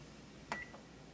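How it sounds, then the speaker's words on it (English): A kitchen timer being started while dehydrating corn, giving a single short electronic beep with a brief second tone, quiet against a faint room hum. "we are going to start the timer"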